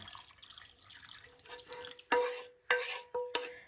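Water is poured in a few short splashing bursts into a cooking pan for stewed pork noodles, following a quieter stretch of soft trickling.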